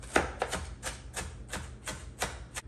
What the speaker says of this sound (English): I'm gonna cut these onions up a little bit more.